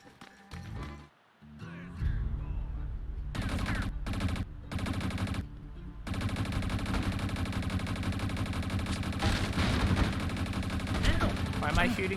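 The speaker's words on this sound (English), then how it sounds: "Why am I shooting this?" Gunfire in the video game Rango comes as bursts of rapid, loud shots broken by short gaps, then continuous shooting with music-like game sound underneath, close and dense throughout.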